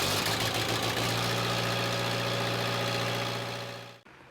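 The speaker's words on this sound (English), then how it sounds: "I'm gonna go ahead and let the tractor warm up for a while before I start using it" An Allis Chalmers tractor engine idles steadily while warming up on a freezing morning, a loud, even low rumble with constant vibration that fades toward the end before cutting off abruptly.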